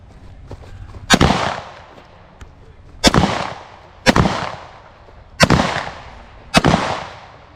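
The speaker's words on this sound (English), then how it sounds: "So I'll just give you how we do fast firing." Firearm shots fired in quick succession during a police training drill: five sharp, loud reports spaced roughly a second apart, each with a short echoing tail, and no talking between them.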